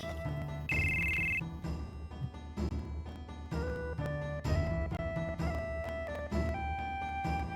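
A telephone rings in the Final Fantasy VII video game, a loud electronic ringtone of repeated tonal trills over game music that carries on throughout.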